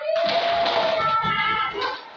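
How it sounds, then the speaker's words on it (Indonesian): A classroom of children applauds a classmate with a steady wash of clapping, fairly close and lively, with a few voices calling out over it. "beri tepuk tangan dulu untuk Melia"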